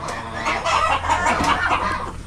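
Several chickens cluck and murmur continuously at close range, a busy, overlapping flock chatter with no voices present.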